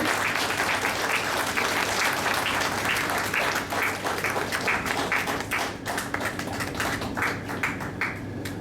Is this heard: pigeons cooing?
no